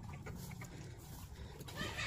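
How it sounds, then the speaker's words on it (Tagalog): Chickens clucking as they feed near a house, a few soft, low clucks close by over a quiet outdoor background, with no speech. "Ayan oh, daming marites na manok."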